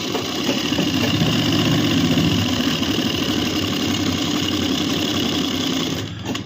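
A sewing machine with a newly replaced tension spring runs a test seam through doubled cloth, a loud, close, continuous rapid mechanical whirring that holds steady and cuts off just before the end.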